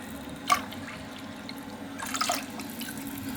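Tap water runs into a sink while a pet snail bathes under the stream, giving a soft, steady trickle with a sharp splash near the start and a louder gush of splashing later on.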